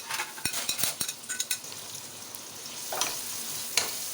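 Finely chopped onions hitting hot oil in a pressure cooker for beef haleem, with a few sharp clinks and stirring taps up front, then a steady low sizzle that swells briefly near the end; no one speaks.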